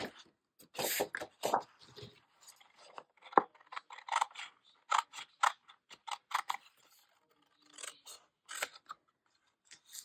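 Scissors snip through a greeting card at close range, a series of crisp irregular cuts and rustles with short pauses between them, quiet and without talk.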